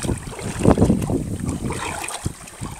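Wind buffets an outdoor microphone beside open fields and fish and shrimp ponds, giving a loud, gusty low rumble that swells and fades over a few seconds with no talking.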